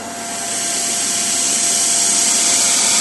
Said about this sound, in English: And we'll hit cycle vacuum.